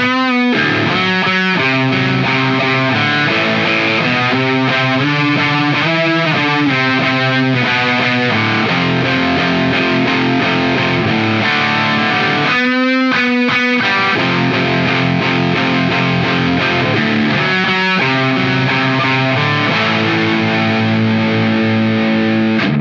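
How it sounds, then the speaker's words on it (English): Loud, saturated electric guitar riffs and sustained chords played through a JHS Hard Drive high-gain distortion pedal, continuous throughout with no voices. "offering a unique high-gain distortion that is unlike any other distortion pedal"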